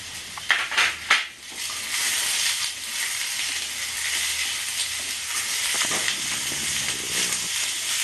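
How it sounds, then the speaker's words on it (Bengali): Potatoes frying in oil in a pan, with an onion added next for a Bengali aloo bori tilapia fish dish; steady close sizzle and hiss with a few clattering stirs near the start, no talking. "আলুটা আমার মোটামুটি ভাজা হয়ে গেছে একটু লাল লাল মতো হয়েছে আমি এবারেতে পেঁয়াজটা দিয়ে দেবো"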